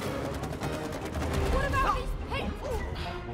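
Rapid bursts of cartoonish gunfire from the co-op video game It Takes Two rattle under excited player voices talking over the action.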